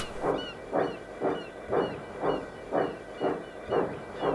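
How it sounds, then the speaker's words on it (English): A steam locomotive pulling away from a station chuffs in a steady, even rhythm of loud hissing exhaust puffs, about two per second, with no voices. "The guard blew the whistle, and they were off!"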